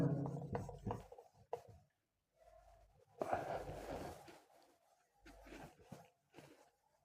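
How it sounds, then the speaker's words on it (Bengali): Chalk or marker drawing of a Searle's apparatus setup being wiped off a classroom board, with bursts of rubbing strokes and pauses between them, close and fairly quiet. "তো আমি এক্সপেরিমেন্টাল সেটআপটাকে মুছে দিচ্ছি"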